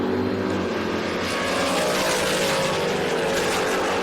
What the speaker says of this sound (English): Swindoll in the nitrous infused 68 Chevelle.